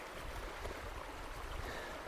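A river flows with a steady, even rush of moving water, soft and continuous at a quiet level on a hiking trip in mountain country.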